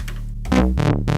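Tones from a modular synthesizer with a very sharp attack, shaped through a diode filter by an STG Soundlabs .MIX mixer. Three bright, punchy plucks sit over a low, constant drone, each with a quick bright burst that decays fast.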